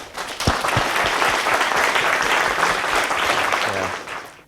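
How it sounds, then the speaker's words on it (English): An audience at an English-language Islamic lecture welcomes Fadel with a swell of applause, rising quickly to a dense, steady clapping that holds for several seconds before fading, with a brief voice near the close. "I think we should give Fadel a big applause"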